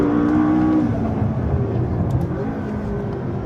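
A McLaren 650S supercar engine pulls hard on the throttle on a track. A loud, close engine note rises in pitch, then settles into a steady roar that fades slightly.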